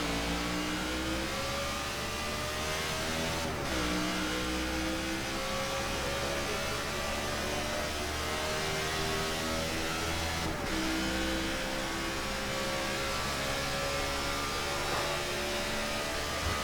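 A NASCAR '15 race car engine roars at high revs around the Hollywood Casino 400 track, a loud continuous drone with rising pitch sweeps and a couple of brief gear-shift dips, with no talk.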